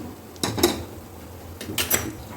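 A utensil stirs paneer bhurji with roasted gram flour in a pan, giving two short bursts of metallic scraping and clinking, close and fairly loud, with no talking.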